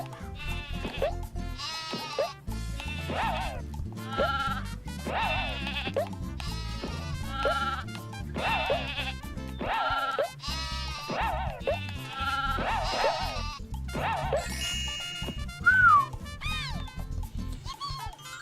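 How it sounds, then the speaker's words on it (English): Repeated sheep bleats over background music in the PlayStation game Croc: Legend of the Gobbos, many short calls in quick succession, fairly loud and continuous. "I whacked enough sheep there"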